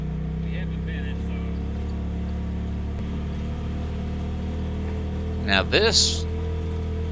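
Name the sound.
Jeep driving up a mountain trail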